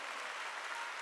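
A church congregation at a Wednesday worship service claps briefly, a soft, even burst of applause with no voices over it.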